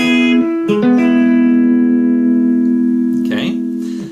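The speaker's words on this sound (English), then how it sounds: "the lick is simply playing the first three strings," Guitar lick on the first three strings: a couple of plucked notes then a sustained chord that fades, with a brief noisy scrape near the end.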